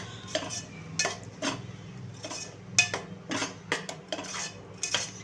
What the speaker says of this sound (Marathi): आणखीन 2 मिनिटं परतून घेऊया आपला मसाला